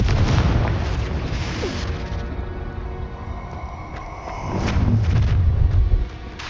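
Spell-blast explosions from the Confringo curse in the Hogwarts Legacy video game land as dull booming bursts, one near the start and a heavier rumbling one toward the end, alone without talk.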